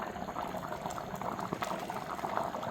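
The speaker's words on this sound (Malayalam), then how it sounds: "ഇപ്പം നന്നായിട്ട് തിളച്ചുകൊണ്ടിരിക്കുകയാണ്." Water rolls at a boil in a cooking pot meant for tapioca, a continuous close bubbling churn with small pops, steady and alone.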